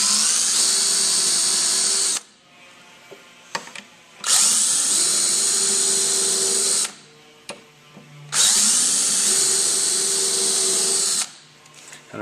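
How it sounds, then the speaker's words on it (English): A power drill with a self-centering bit pre-drills small screw holes in wood for a storage chest, three loud sustained whirring bursts of about three seconds each separated by short pauses and handling clatter. "I do want you to pre-drill as well with our self-centering bit"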